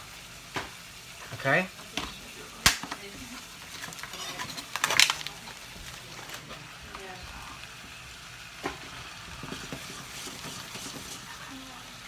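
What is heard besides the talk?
beef searing and frying in a hot pan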